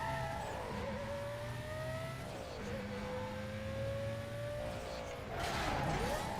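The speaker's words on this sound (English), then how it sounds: "I can hear his BMW coming up to me." A BMW racing car's engine in Need for Speed: Most Wanted whines with sustained rising and falling tones, pitch shifting with gear changes and a brief tire skid, loud and continuous throughout the street race.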